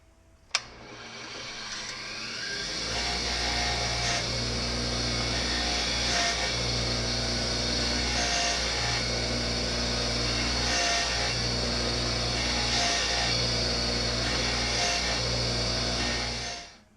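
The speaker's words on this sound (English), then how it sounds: "I'm just going to touch this on a wire wheel here." A rusty part from an Enco 3-ton ratcheting arbor press is pressed against a spinning wire wheel, producing a loud, continuous abrasive whir over a steady motor hum that holds for about fourteen seconds before cutting off.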